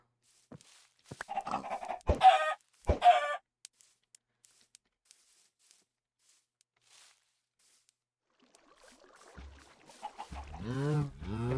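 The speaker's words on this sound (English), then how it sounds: "Bunch of chickens out here." Chickens in the Minecraft video game cluck in a few short bursts early on, followed by quiet and then a voice talking near the end.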